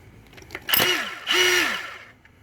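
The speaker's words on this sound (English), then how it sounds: "We don't need the drill function, we just need the hammer function on it. Got a cheapy chisel as well." A hammer drill fitted with a cheap chisel, chiselling out a channel: two short bursts of whirring, rising and falling motor noise with hammering rattle, fairly close, separated by a brief pause.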